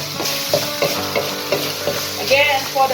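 Holy basil chicken stir-fry is stirred in a hot pan, loud close sizzling with a regular series of spatula scrapes roughly every third of a second, plus a brief brighter hiss near the end.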